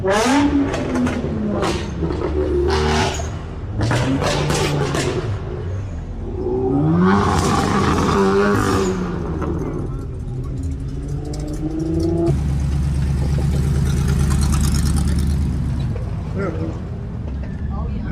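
A big-block late-1960s muscle car engine at a car show, idling with a deep rumble and revving up, loud and close, while people talk over it.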